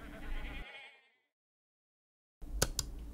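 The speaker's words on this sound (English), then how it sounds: "Sheep." A sheep bleats in a loud, wavering, drawn-out call that trails off into silence, followed near the end by another short burst of bleating.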